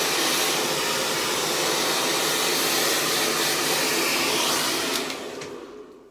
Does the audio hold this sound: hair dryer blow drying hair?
yes